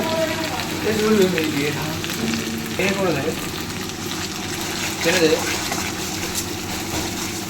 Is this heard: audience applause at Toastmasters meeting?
no